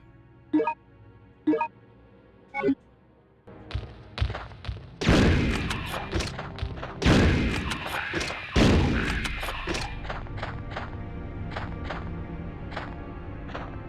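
Gunfire in the survival horror game Resident Evil Survivor: three sharp, evenly spaced shots, then a dense, loud stretch of rapid booming blasts with echoing tails, ending in a quick string of lighter pops.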